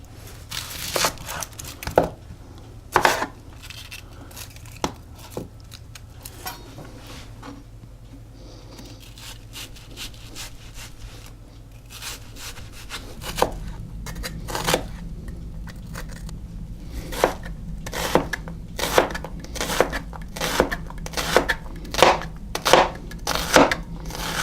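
Knife chopping an onion on a cutting board for guacamole, with sharp irregular chops that come in bursts and speed up into a steady rhythm near the end, close and fairly loud.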